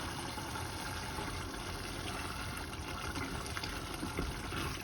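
Water poured into a pot of minced meat, a steady loud gushing stream running without break and drowning out everything else.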